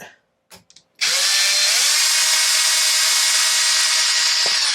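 A power drill backing screws out of the shock tower of a Traxxas XO1 RC car: a few light handling clicks, then a loud, steady close-up whir that holds constantly to the end.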